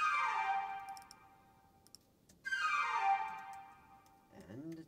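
Two short flute sample phrases in a beat, each a bright breathy tone falling away, separated by a brief gap, with a faint low rising sound at the end.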